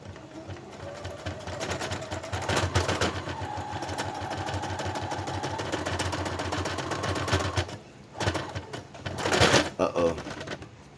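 A sewing machine stitches a tie-dye face mask in rapid, rattling bursts that stop and restart, with short pauses between runs and a person talking at times.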